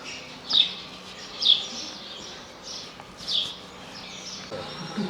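Several loud, harsh stork calls ring out at intervals, each a short raspy burst, over a steady outdoor background at Chellah in Rabat, Morocco.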